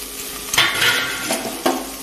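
Onion, tomato, carrot, beans and potato are stirred in a pan for rava kichadi, with a steady sizzle and two distinct scraping strokes of a spoon against the pan, close and alone.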